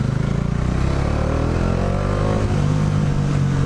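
A Bajaj Dominar 400 motorcycle engine drones steadily while riding in second gear on a road that once flooded, a loud continuous hum with layered harmonics that shifts pitch slightly near the end.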